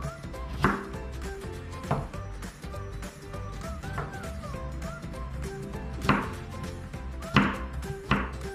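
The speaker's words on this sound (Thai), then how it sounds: "ซอยแครอทเป็นเส้นๆเลยครับ" A knife cuts carrots into strips on a board, sharp chopping knocks recurring at irregular intervals over a low background hum.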